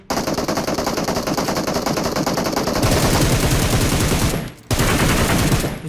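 Rapid automatic gunfire in PUBG, loud and close, sustained bursts of fast shots that run nearly continuously, with one brief pause before the firing resumes.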